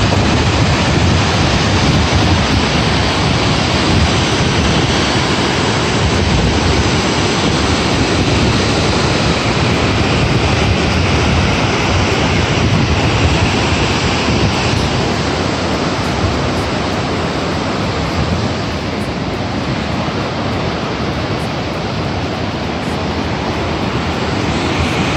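Upper Mesa Falls on the Snake River in Idaho roars in a dense, steady, loud wash of falling water that holds unbroken for the whole stretch, with no voices.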